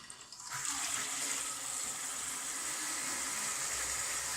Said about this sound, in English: So we'll turn the water on